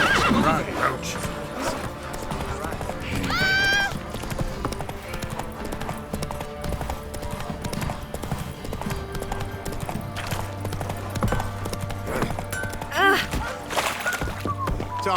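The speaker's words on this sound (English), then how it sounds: "Time to water the horses." Horses neigh and whinny while hooves clip-clop steadily, with voices talking over a busy, layered soundscape from The Witcher 3: Wild Hunt.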